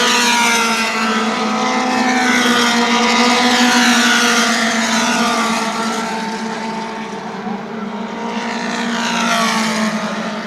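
Mod Mini race cars on the final lap of a heat race at New Smyrna Speedway, a loud sustained engine roar that swells and fades as the pack passes, steady throughout with no clear speech.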